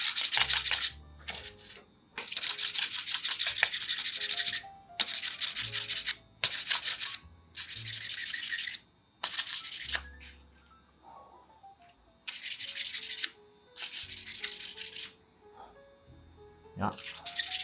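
An acoustic guitar nut being shaped and rounded over at its side and back upper corner, heard as a run of loud, rasping sanding or filing strokes in bursts of one to two seconds with short pauses between them.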